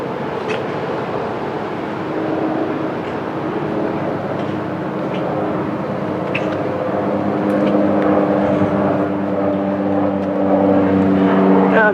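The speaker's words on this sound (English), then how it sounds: "The other thing there are a lot of is" Airplanes fly near the main airport over Condado Lagoon National Park, their engines a continuous loud droning roar that swells slightly toward the end, with no talking.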